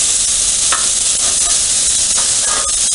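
Shrimp frying on a Blackstone griddle, a loud, steady sizzle with close crackling pops and occasional scraping of a spatula against the flat-top, no voices.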